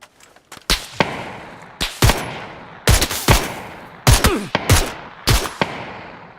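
Gunfire in PUBG Battlegrounds: sharp single shots and short bursts ring out in several clusters, loud and close, with nobody talking.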